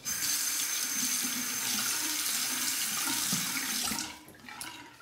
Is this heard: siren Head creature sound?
no